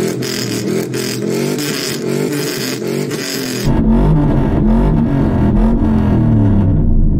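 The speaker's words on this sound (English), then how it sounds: "the speed that this big V8 spins up is quite impressive" A Hennessey Mammoth's big V8 with a tuned exhaust revs hard and loud up close, rising and falling in repeated throttle blips before dropping into a deep, rumbling idle.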